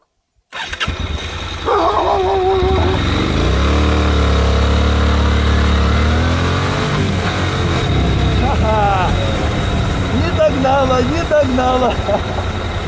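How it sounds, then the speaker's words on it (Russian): A motorcycle engine cranks and catches, then idles and revs up and down through several throttle blips, loud and close, with a dog barking in the background toward the end, on a touring ride through Croatia. "сейчас надо стартануть и дать сразу газу, чтобы она не поймала"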